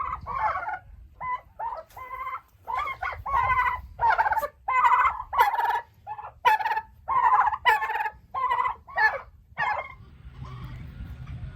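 Turkeys, toms and hens, gobble in a backyard coop alongside chickens, a steady series of loud, close, rapid calls repeating for about ten seconds before fading out.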